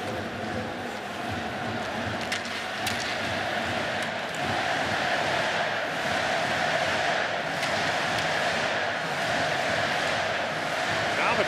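Ice hockey arena crowd at a Czechia versus Denmark world championship game, a broad sustained roar of cheering fans filling the hall steadily throughout, with no clear individual voices standing out.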